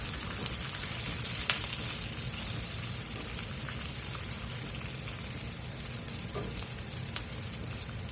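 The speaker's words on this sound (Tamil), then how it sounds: "ஒரு 6-7 பல்லு பூண்டு நீளமாக வெட்டி அதையும் சேர்த்து வதக்கணும்" Green chillies and sliced garlic sauté in hot oil in a pan, giving a steady close sizzle with a few faint clinks of stirring throughout and no speech.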